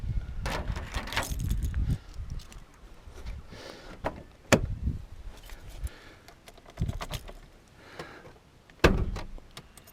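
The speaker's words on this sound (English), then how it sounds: "The keys comprise of the Ford key and numerous keys for the evidence recording vault mounted in the rear boot." A ring of keys including a Ford car key and vault keys from a 1994 Ford EF GLi Falcon police car, jangling and clinking in scattered bursts with soft handling knocks in between, close up and fairly quiet.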